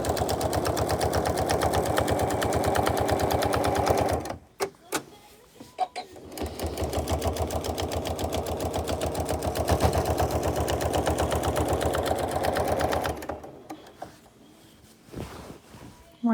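Sewing machine quilting a memorial quilt: steady, fast mechanical stitching runs close and loud, stops for a few seconds with small clicks, starts again for a long stretch, then stops once more.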